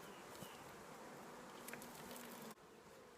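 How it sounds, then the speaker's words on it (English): Honey bees buzzing around an opened hive during an inspection, a faint, steady drone of many insects close by that drops away abruptly near the end. "All the bees are working, expanding that comb out."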